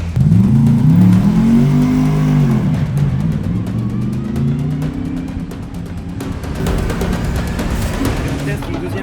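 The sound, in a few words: Porsche GT3 race car engine on the Nordschleife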